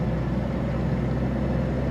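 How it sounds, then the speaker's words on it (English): Smooth, steady low hum of a 1929 Chevrolet Landau Convertible engine running, close and continuous with no variation in pitch or level. "Nice smooth running engine,"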